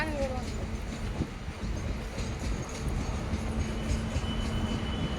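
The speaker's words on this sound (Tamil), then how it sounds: "ட்ரெயின் கிட்ட வருது." A train rumbles steadily along railway tracks beside a temple, giving a dense, continuous roar with a faint hum throughout. A person speaks over it.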